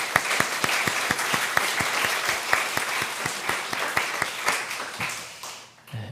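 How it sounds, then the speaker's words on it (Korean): A church congregation at a Sunday worship service applauds newlyweds with loud, evenly paced unison claps in a quick steady rhythm, then the clapping fades out at the end. "축복하는 박수 한번 치겠습니다."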